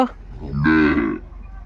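A Sahiwal bull calf lets out a single short, close moo while being loaded onto a truck at a farm, rising and then tapering off in under a second.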